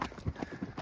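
Horse hooves trotting on a dirt trail during a trail ride, a steady rhythmic clip-clop of several quick beats, close and clear, with a faint voice underneath.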